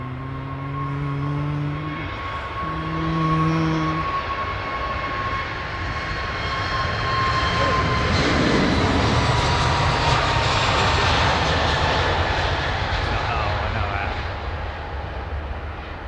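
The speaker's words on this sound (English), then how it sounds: "here we go. Pushback time." A jet airliner being pushed back at London Heathrow Airport, a steady whining engine and tug hum with tonal lines rising and shifting, building gradually to a broad sustained roar over the whole stretch.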